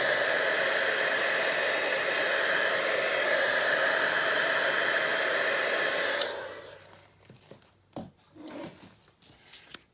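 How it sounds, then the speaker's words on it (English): Heat tool blowing a steady, loud whoosh of hot air for about six seconds to heat-set stamped ink on paper, then cutting off abruptly, followed by quiet handling clicks and taps. "I'm gonna maybe heat set this a little bit just to make sure that it's totally"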